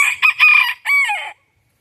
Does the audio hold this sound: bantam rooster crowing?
yes